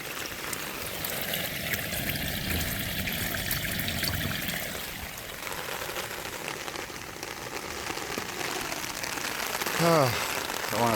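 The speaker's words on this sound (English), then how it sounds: "Look at the speed all that water's coming in there." Rainwater from a gutter rushing steadily into a French drain during rain, a close, continuous gushing and trickling with a brief sharper splash near the end.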